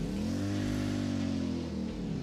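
A motorcycle engine in the video game Ghost Recon Wildlands drones steadily at a low pitch with a slight rev, loud and continuous with no talk over it.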